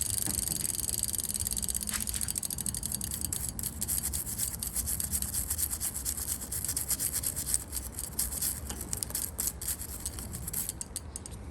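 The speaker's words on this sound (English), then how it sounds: "Now the derailleur looks pretty good, but I'm gonna clean that too." A brush scrubs the derailleur of a Brompton bicycle during drivetrain cleaning, giving a continuous close bristly scratching and rubbing that runs steadily throughout without speech.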